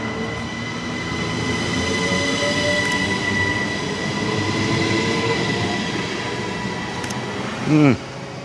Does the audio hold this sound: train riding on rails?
yes